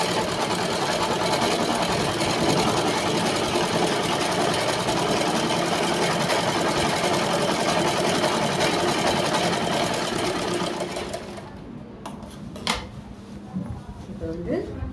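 A sewing machine runs steadily stitching a blouse seam for about eleven seconds, a loud, continuous mechanical whir, then stops, leaving quieter handling noises and faint talk.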